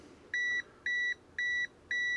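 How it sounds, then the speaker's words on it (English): A Venlab VM-600A multimeter sounds its non-contact voltage alarm near a live NEMA power plug: four evenly spaced high electronic beeps, each about a quarter second long, loud and close over a quiet background. "it does tell us non-contact voltage and annoyingly beeps like so"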